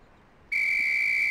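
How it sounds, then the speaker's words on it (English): A single sharp, steady whistle blast signals the start of a shotgun drill, sounding loud and close and held for nearly a second after a brief quiet. "On the whistle."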